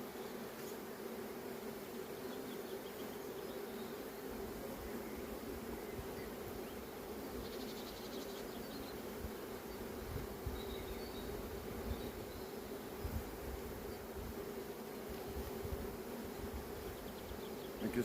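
Honeybees packed into a small three-frame starter box for queen grafts keep up a continuous low buzzing drone, even and fairly faint, with occasional light rustles and knocks.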